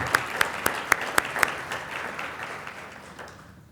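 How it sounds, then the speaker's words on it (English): An annual meeting audience applauds sponsors: a few loud, crisp claps stand out early over a wash of crowd clapping that gradually fades away. "Let's give a hearty round of applause for our sponsors."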